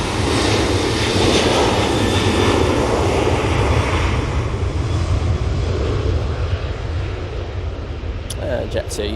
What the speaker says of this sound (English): Jet2 using the 737-800 for that flight.